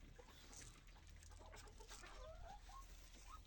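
Small ducklings peep and chirp faintly while being fed, their soft calls scattered over a low background rumble.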